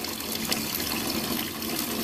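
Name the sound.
tap water running over a toothbrush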